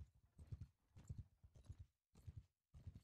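Horses' hooves clip-clop in a town market in the video game Mount & Blade II: Bannerlord, a faint, steady rhythm of quick hoofbeats arriving in short repeated bursts with brief gaps between them.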